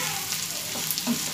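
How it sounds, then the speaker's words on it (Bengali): Onion browning in hot oil for egg patties, a steady close sizzle with faint stirring clicks and no talk. "তেলের সঙ্গে আমি পেঁয়াজটা হালকা বাদামি করে"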